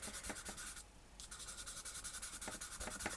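Charcoal scratching and rubbing across thin, gritty sketchbook paper, a close, quiet series of short dry strokes with one brief pause partway through.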